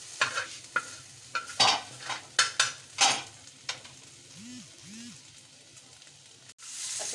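Kaleji fries in ghee on a tawa, with a quiet sizzle and a series of loud, uneven spatula scrapes and knocks that give way to two brief tonal squeaks and then calm frying.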